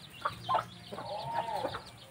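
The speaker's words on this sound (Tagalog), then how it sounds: "Kawawa yung ating manok" A chicken gives a few short clucks, then a longer drawn-out cluck, close by against a quiet farmyard background.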